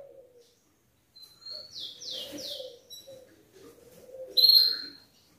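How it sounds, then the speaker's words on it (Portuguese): Caged birds, among them an azulão or blue grosbeak, give scattered chirps and short whistled notes, faint and fairly close, with brief pauses between calls and one louder burst near the end. "Aqui estão os passarinhos, ó, o azulão"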